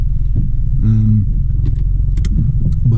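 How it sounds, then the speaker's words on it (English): A car rolls slowly over a deeply rutted track, its low engine rumble steady and near, broken by a few soft knocks and thumps as the wheels drop through the ruts. "See, the car doesn't do too bad with the ruts"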